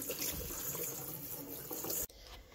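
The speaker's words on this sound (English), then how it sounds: "Make sure to give them a really good rinse." Vegetables rinse in a colander under a running kitchen tap, a close, steady splashing rush of water that cuts off abruptly near the end, leaving a quieter trickle.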